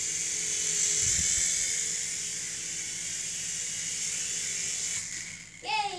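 A small Revell Roxter RC helicopter flies and comes down to land, its steady whining rotor hiss holding throughout and then wavering near the end as it settles.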